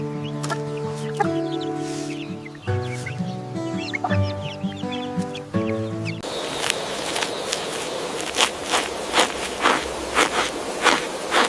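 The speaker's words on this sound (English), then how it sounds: "This is a chicken." A chicken clucks repeatedly, a run of short, evenly spaced clucks with a farmyard background after an opening stretch of tonal music, with no voices.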